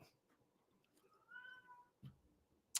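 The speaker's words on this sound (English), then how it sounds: "that was my cat in the background" A cat gives a short, faint meow in the background of a quiet room, followed by a couple of soft thumps and a sharp click.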